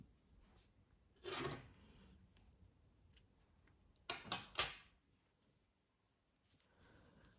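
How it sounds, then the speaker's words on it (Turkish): Scissors cutting knitting yarn after finishing a row, heard as quiet rasping snips and rubbing in two short bursts within a very quiet room. "Sıra sonuna kadar tamamladım. İpliği kesiyorum."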